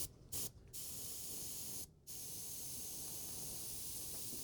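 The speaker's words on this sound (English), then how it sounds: "So I'm going to spray from what we would call the 2 o'clock position to get our lighting down." Close spray-paint mist from a can or airbrush hissing onto a painted miniature model, with a few short bursts followed by one long, steady, sustained hiss.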